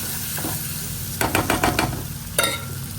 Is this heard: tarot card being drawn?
no